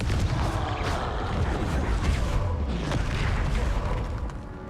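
Fiery Confringo spell blasts in the Hogwarts Legacy video game, a dense, loud rumbling wash of booms and crackling bursts that fills the whole stretch before easing slightly at the end.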